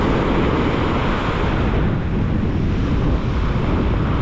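Fresh wind gusting over a cold seaside beach with surf, a steady broadband roar buffeting the microphone continuously with no voices.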